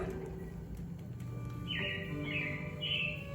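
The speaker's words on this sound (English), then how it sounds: "it looks like the Robins are getting ready to celebrate Valentine's Day today" Several bright recorded robin chirps sing out one after another, clear and fairly close, in the Carousel of Progress show at Magic Kingdom, over a quiet background with a faint low hum.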